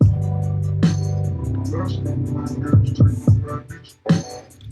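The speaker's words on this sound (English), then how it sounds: "this is what the transient designer sounds like on the snare" Punchy snare drum hits shaped by a transient designer plugin, sharp attacks landing at uneven intervals over a sustained low bass tone in a hip-hop style beat.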